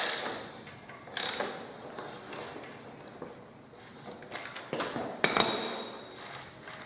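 Metallic ratcheting and clinks from a wrench loosening the rear axle nut on a Yamaha WR250R motorcycle, close and intermittent, with no talking.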